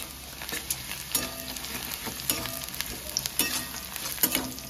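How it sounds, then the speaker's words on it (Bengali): Chopped garlic fries in hot oil with onion, a steady close sizzle broken by regular scraping and clinking of a spatula stirring the pan, with no talking. "রসুনটাকে হালকা ভেজে নেব"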